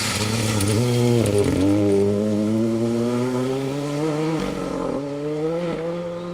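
A Peugeot R5 rally car on a Welsh gravel rally stage, engine loud and close, revving hard through gear changes with rising and falling pitch, holding steady near-constant power.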